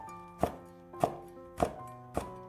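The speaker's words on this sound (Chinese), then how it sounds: "下面准备2个小米辣切成圈" Four evenly spaced knife chops on a cutting board as two bird's eye chili peppers are sliced into rings, each a crisp, close thunk with a short ringing tail.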